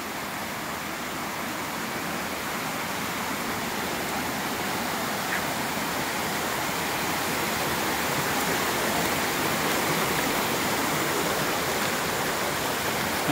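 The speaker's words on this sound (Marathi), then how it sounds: "आला आवाज पाण्याचा." Usgaon waterfall roars as a steady, dense rush of falling water. It is loud and unbroken from start to finish, with no voices.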